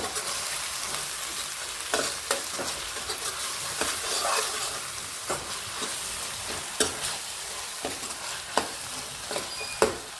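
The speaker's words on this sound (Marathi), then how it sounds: "परतले मसाले बघा। तेल चांगलं सुटलंय त्याला" Spice masala for chole sizzles and fries in oil in a pan, a steady loud crackling hiss broken by regular scraping and stirring clicks, with no voices.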